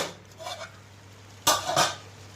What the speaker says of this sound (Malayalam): ഇനി നമുക്കതിലേക്ക് മാങ്ങ ഇടാം